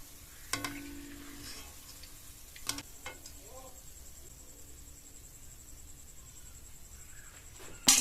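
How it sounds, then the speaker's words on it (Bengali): Homemade chanachur frying in oil with only a faint, thin sizzle as the bubbling dies down, broken by a few sharp clicks and a louder knock at the end. "এই যে বুজবুজ ওঠা একদম কম হয়ে গেছে, আর অল্প অল্প এরকম বুজবুজ উঠছে, ভাজা হয়ে গেছে।"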